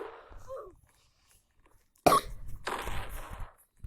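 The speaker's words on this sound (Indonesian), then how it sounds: "Batuk kau guys, maaf ya," A person playing Roblox on a PC lets out a sudden, loud, close cough followed by a rough, drawn-out fit of coughing after a brief stretch of quiet.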